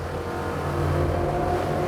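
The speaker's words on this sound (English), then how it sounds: "we'll put on the revs, give her a bit more pace." A Jeanneau Cap Camarat 10.5CC boat's outboard engines rev up and accelerate across flat water, giving a loud, continuous drone with a low hum that climbs steadily in pitch.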